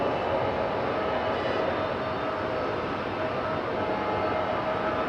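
Boeing 777 airliner moving at Raleigh-Durham airport, heard as a steady, broad engine roar with a faint whine, continuous and fairly distant, with no voices.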